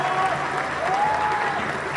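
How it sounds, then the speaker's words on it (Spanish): Audience at a political party meeting applauds steadily for two seconds, a dense even clapping that stays loud throughout, with a faint tone or whistle drifting above it. "les quiero pedir un aplauso fuerte para nuestro jefe de gobierno, Miguel Ángel Mancera"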